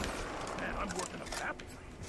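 Rapid gunfire from Black Ops 2 Zombies on the Tranzit map mows down zombies, a dense continuous burst of game shots mixed with other game sounds, with a player talking over it.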